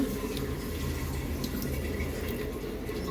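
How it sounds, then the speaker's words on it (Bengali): Fine rice is washed in water in a home kitchen for khichuri. A steady, low sloshing of water runs without pause, and no one talks. "সুজি চালগুলো একটু ভালোভাবে ধুয়ে নিলেই ভালো হয় আমি এভাবে এটাকে দু তিনবার ধুয়ে নেবো"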